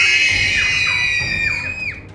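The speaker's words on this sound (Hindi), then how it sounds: "पीछे बैठे पैसेंजर घबराहट में बुरी तरह चिल्लाने लगते हैं" Panicked passengers scream aboard British Airways Flight 762 after an engine fire on takeoff, a loud, continuous wail of high overlapping voices that rises and falls in repeated swoops over a dense crowd din.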